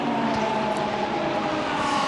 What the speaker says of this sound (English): I can hear a car coming down the pit lane.